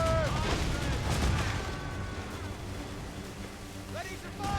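Ship cannons fire in an Assassin's Creed Rogue naval battle, a loud booming volley with rumbling blasts over ocean ambience.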